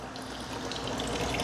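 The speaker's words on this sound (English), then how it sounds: "I'm dumping some water out of their bags" Water poured out of plastic fish transport bags holding baby freshwater stingrays, a steady, faint splashing trickle throughout the short stretch.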